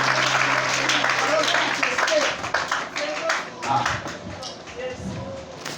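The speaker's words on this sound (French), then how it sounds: "Acclamons pour la gloire de Dieu" A church congregation applauds during a worship service, with a sustained crowd of clapping mixed with voices and shuffling, tapering off toward the end.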